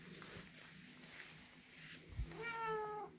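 A pet tomcat gives a single clear meow near the end, rising and falling, close to the microphone after a quiet room stretch with a soft thump just before it.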